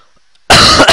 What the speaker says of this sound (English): I've got a really bad cough